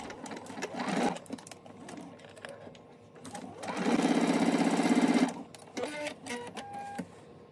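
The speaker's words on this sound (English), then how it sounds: "So let's take this to the sewing machine." A sewing machine runs in one fast, steady burst of rapid stitching, close by, surrounded by quieter handling and rustling noises.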